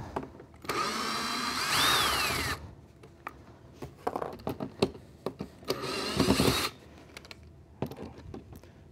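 A power tool whirs in short bursts while removing screws from a PC case, two longer buzzing runs separated by clicks, taps and light handling noises, close and loud.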